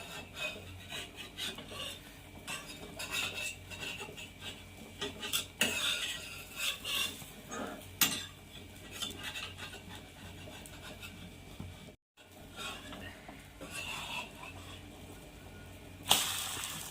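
An egg chapati cooks on a pan over medium heat and is flipped partway through. Soft scraping and rubbing of a spatula sit under a faint background sizzle, with a brief silent gap before the cooking resumes.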